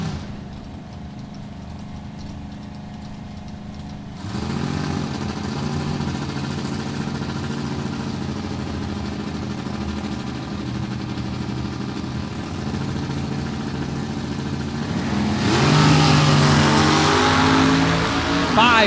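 Drag racing cars in the Super 10 class sit rumbling at the starting line, engines idling low and steady before a louder surge of revving near the end, with no speech.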